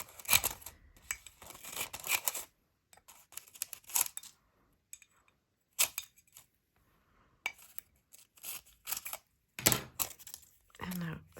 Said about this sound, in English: Also on this side I have to cut in.